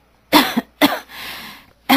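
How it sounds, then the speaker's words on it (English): Someone coughs in a doctor's-visit dialogue from an English listening exam: two sharp coughs close together, then a longer raspy exhale and another cough starting at the end, near and loud. "I have a terrible cough."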